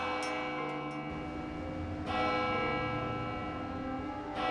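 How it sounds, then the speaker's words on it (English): A church bell at Saint-Germain-l'Auxerrois in Paris tolls steadily, its rich ringing tones and long resonant hum filling the clip, with a fresh strike near the middle and another at the end, no voices. "It's a bell tolling from this church, Saint-Germain-l'Auxerrois"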